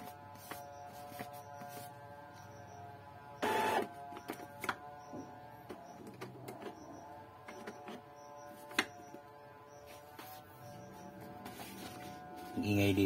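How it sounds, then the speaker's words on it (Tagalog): An Epson L3150 inkjet printer runs a head cleaning cycle, giving low mechanical whirring with soft ticks and clicks and a brief louder burst partway through, steady and fairly quiet throughout. "So, nag-head cleaning siya."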